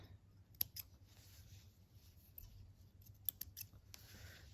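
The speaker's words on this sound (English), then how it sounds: "I have some little pieces of string that I need to definitely trim away." Scissors trimming small loose pieces of string from a handmade mini stocking, giving a couple of crisp snips spaced a few seconds apart over a quiet room background.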